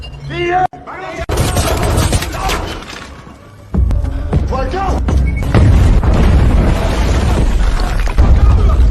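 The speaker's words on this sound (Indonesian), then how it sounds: "terjadilah ledakan besar yang menghancurkan terowongan bawah tanahnya" Loud booming blast from an explosion destroying an underground tunnel in a film cuts in abruptly, followed by rumbling debris and crashing noise, with dramatic music and brief voices mixed around it.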